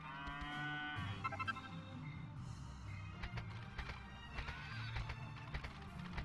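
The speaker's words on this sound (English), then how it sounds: "Cows." Cows in Dragon Quest VIII letting out long, tonal moos over quiet game background sounds, one drawn-out call followed by shorter lowing, moderately loud with no talk.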